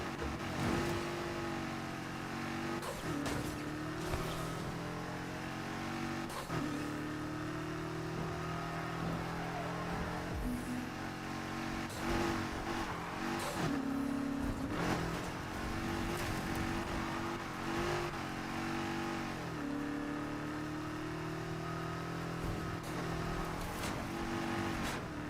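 Racing car engines, Porsches and a BMW in a video game, droning and revving continuously with rising pitch sweeps and shifts between gears, steady and moderately loud throughout.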